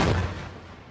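A 16-ounce cup of explosive blown up on a quarter-inch steel boiler plate, a single sharp loud blast that decays into a rumbling tail.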